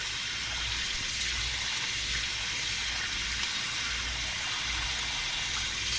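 Running water rinses crab bait during cleaning before crabbing for blue crabs, a steady close hiss of flowing water with no talk.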